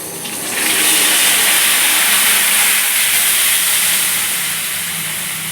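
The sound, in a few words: tamarind juice poured into hot tempering, sizzling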